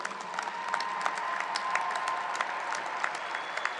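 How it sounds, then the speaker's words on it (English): Applause at a high school graduation ceremony for students receiving academic honors, a steady patter of many hands clapping from a crowd in a large hall, moderately distant with a few sharper claps. "Please applaud these students for their academic honors."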